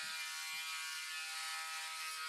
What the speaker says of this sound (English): It's distracting them from the noise of the Dremel.